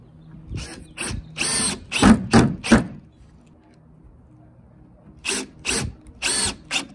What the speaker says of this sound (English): we're going to screw the plywood to the 2x4 in the pre-drilled holes that you just made